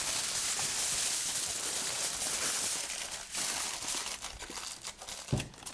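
Tin foil crinkles steadily as it is wrapped around a paper mache castle form, a dense close rustling that runs throughout with a sharper crunch near the end.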